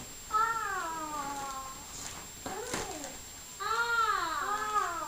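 A cat meows twice, drawn-out wavering calls separated by a pause with a brief rustle, fairly faint over a steady background hum and room noise at an Easter gathering.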